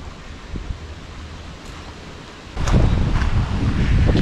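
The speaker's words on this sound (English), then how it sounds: "It is super windy today." Strong wind blows outdoors at a home solar panel installation, a broad rushing roar that buffets the microphone, moderate at first and then gusting noticeably louder for the last couple of seconds.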